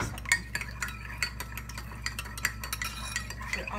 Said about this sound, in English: And stir this up.